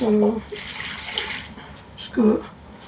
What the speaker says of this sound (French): je vais mettre un fond d'eau